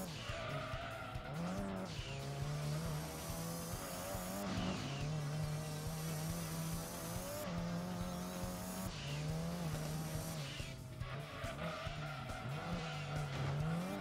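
Car drifting in Gran Turismo 7, with tires squealing in long sustained wails and a steadily droning engine, held at a moderate level and continuing almost without break through the stretch.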